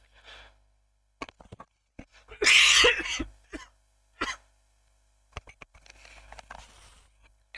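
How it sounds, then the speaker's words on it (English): A burst of dry, scratchy coughing up close, surrounded by small clicks, sniffs and short throat noises in an otherwise quiet room. "It's like a tickly cough."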